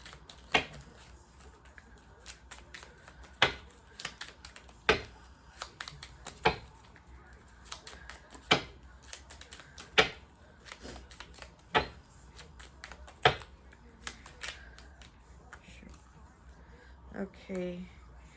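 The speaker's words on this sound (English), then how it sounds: "Oh, these are so tiny, they're hard to shuffle." Soft papery flicks and riffles of small cards repeat in irregular bursts, quiet and close, with sharper snaps every couple of seconds.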